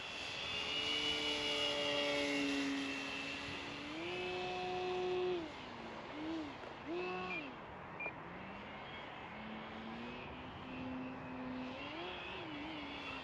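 An E-Flite Extra 300 RC model plane flies aerobatics, its electric motor whining steadily and swooping up and down in pitch as the throttle is pumped, loud and fairly close with no talk.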